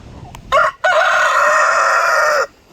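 A rooster crows once nearby, loud and clear: a short opening note, a brief gap, then a long sustained call lasting nearly two seconds.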